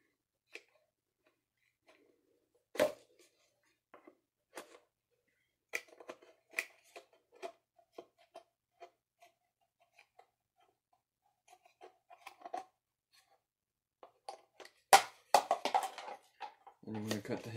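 Metal snips cutting through a plastic goose shell decoy, sparse crisp clicks and snaps spread across the stretch, some close and sharp, with a louder burst of cutting near the end.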